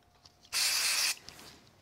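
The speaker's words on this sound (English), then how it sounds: "I think I can even just put this on with some spray glue" A single short, steady hissing burst of aerosol spray glue, close and fairly loud, lasting about half a second.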